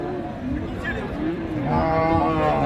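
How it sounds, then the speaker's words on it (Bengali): A cow moos with a long, low, drawn-out call, close by, over a busy murmur of people talking at a cattle market in Ambari, Dinajpur. "একটা গরু নতুন আসলো এই যে চাচার হাতেরটা"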